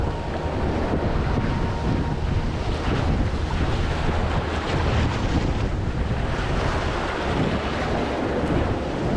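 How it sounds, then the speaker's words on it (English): High sea waves surge and break steadily along the shore at Wat Khao Takiab in Hua Hin, Thailand, a loud continuous wash of surf with gusty wind buffeting the microphone throughout. "With these high waves, it is difficult to walk"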